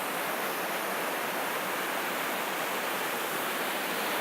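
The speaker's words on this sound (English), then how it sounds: "there's the waterfalls" A waterfall in a Paris park pours with a steady, unbroken rushing hiss, moderately distant and even in level, with no voices over it.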